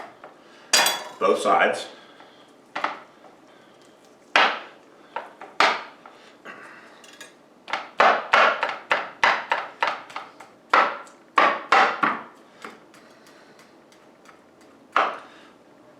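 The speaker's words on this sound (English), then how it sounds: "the first thing I'm going to do is I'm going to puncture them to allow for better marinade" A knife puncturing raw lamb shanks, each about a pound and a half, for a Yemeni haneeth marinade, heard as a string of sharp close knocks and clatters against a board or dish in irregular bursts, with a brief spoken remark.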